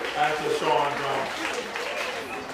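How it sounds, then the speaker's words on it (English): A school gathering in Jamaica applauds young Shaun Brown, a moderate patter of clapping running beneath a voice that speaks over it throughout. "I'll give him a round of applause for all that recognition that is given to our school and to Shaun Brown."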